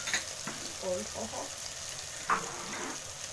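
Green pepper going into tomatoes frying in a pan for matoke ya nazi, a steady soft sizzle with a few faint stirring scrapes and clinks, under quiet speech.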